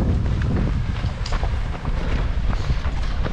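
Steady, blustery wind buffeting the microphone on a dusty trail during a mountain trail race on Uludağ, a continuous low rumble with gusty surges and no voices.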